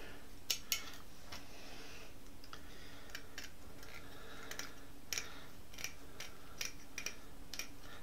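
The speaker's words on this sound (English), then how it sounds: "That clicking sound is just the hex nuts rubbing on the LEDs." Small hex nuts rubbing against LEDs on the underside of a plate during a Scarab Stealth Reconn V3 robot build make sparse, sharp little clicks and ticks, scattered irregularly over a quiet background with no talking.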